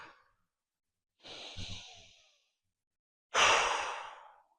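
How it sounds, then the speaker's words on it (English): Two deep breaths drawn in and let out during a seated exercise session, each a soft airy rush, the second louder and closer, separated by silence. "Again, a couple deep breaths in and out."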